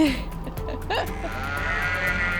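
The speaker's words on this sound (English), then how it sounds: "Good morning, sheep." Sheep in Denmark bleat loudly at the start and again midway, with a quieter flock murmuring and bleating behind, near and clear.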